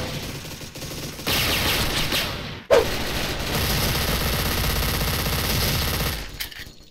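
Dual Platinum MP9 submachine guns firing in the video game Special Force: loud, rapid automatic bursts, one stretch, a brief cut with a sharp snap, then another long rattling burst that trails off near the end.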